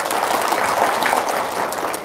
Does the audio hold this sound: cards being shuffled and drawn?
no